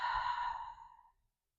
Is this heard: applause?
no